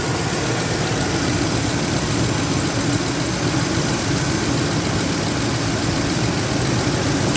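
An old truck engine idling while it warms up, a steady continuous rumble with a broad even drone, close and loud throughout with no talk.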